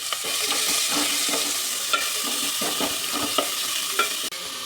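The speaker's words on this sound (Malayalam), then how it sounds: "ഇതിലേക്ക് നമുക്ക് അരിഞ്ഞു വെച്ചേക്കുന്ന ഇഞ്ചി, പച്ചമുളക്, ക്യാരറ്റ്, സവാള ഇതെല്ലാം കൂടി ചേർത്ത് ഒന്ന് വഴട്ടാം." Chopped ginger, green chili, carrot and onion sauté in a hot pan for upma, steady close sizzle punctuated by several spatula stirs and scrapes.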